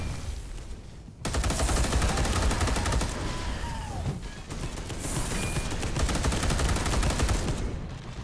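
Sustained, loud automatic gunfire from a co-op shooter game about purging Xenos, rattling rapid bursts nearly continuously after a quiet first second, with a brief lull midway before the firing resumes.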